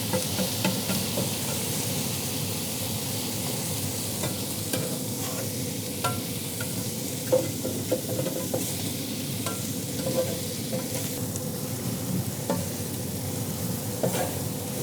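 Beef bulgogi sizzles and crackles steadily on a hot griddle, a dense, close frying hiss with small pops and occasional scraping of the spread-out meat, continuous throughout with no talking.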